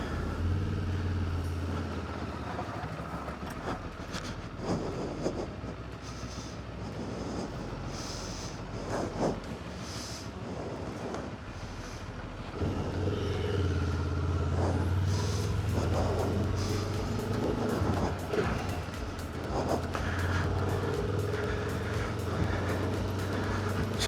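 A Benelli TRK adventure motorcycle is ridden on a short test run after height adjustments for a shorter rider. The engine drones steadily with shifting pitch, then grows noticeably louder and fuller halfway through. No one speaks.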